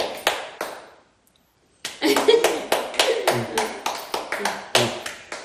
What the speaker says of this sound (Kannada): ಚಪ್ಪಾಳೆ ಹೊಡಿಯಕ್ ಬಂತು.